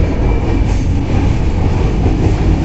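A moving passenger train rumbles steadily and loudly, with dense low wheel and carriage noise filling the whole stretch and no voices.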